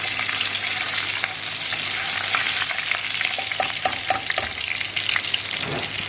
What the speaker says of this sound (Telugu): 4 పచ్చిమిరపకాయలు కొంచెం కరివేపాకు వేయించుకున్నామండి